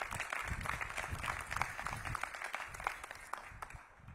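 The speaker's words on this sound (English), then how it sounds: "Give a round of applause for that" Faint applause from a crowd at a ribbon-cutting for a new DC Health headquarters, scattered claps forming a soft, continuous patter that slowly fades out.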